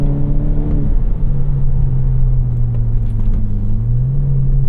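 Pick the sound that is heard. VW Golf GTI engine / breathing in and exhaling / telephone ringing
VW Golf GTI engine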